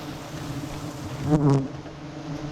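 Bees buzzing around a honeycomb dripping with honey, a close, continuous insect drone that swells louder for a moment midway, then settles back, with no voices.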